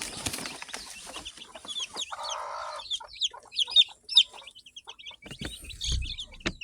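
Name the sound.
chicks peeping and clucking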